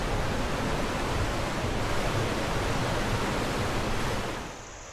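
Waterfall at Dupont Forest, North Carolina, roars as a steady, dense rush of water, loud and close, continuous throughout before easing slightly at the very end.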